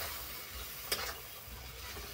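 Food frying quietly in a pan, a faint, even sizzle with one brief stirring knock partway through.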